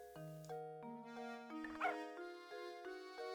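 A dog barks in the village-puzzle adventure game Professor Layton: Curious Village, mixed with chiming game-music tones and jingles; the short bark stands out briefly in the middle against steady musical notes.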